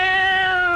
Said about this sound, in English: That's a male cat.